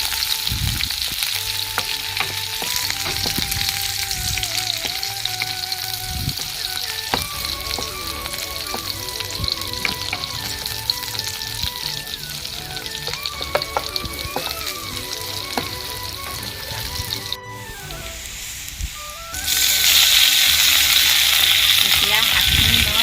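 Sliced onion and two raw green chilies frying in a hot pan, a steady close sizzle and crackle running throughout with occasional stirring scrapes, growing louder and hissier near the end.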